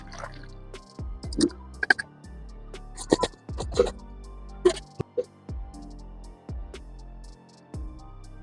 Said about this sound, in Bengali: কোনো ছাঁকনির সাহায্যে কিংবা পাতলা কাপড় দিয়ে এটাকে ছেঁকে নিতে হবে